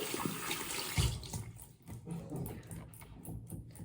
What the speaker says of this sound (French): Du coup, je me lave les mains.